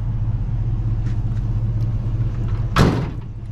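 A work truck's door slams shut once near the end, a sharp broadband thud over a steady low engine idle rumble that runs throughout.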